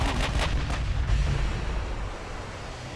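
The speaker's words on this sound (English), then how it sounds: "I'm gonna angle a little bit further away, so you can get all 8 guns firing" Heavy naval gunfire from the Strasbourg battleship's eight main guns in Ultimate Admiral: Dreadnoughts, with a cluster of booming salvos early on that roll into a dense, loud low rumble.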